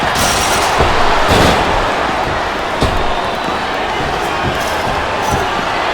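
A video game crowd at a WWE SmackDown vs Raw 2007 wrestling match roars in a dense, continuous wash of cheering, punctuated by sharp thuds and slams from the ring.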